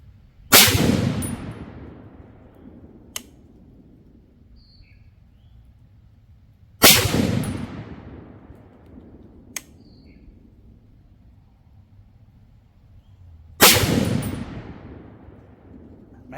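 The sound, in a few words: Bear Creek BC8 .30-06 rifle gunshots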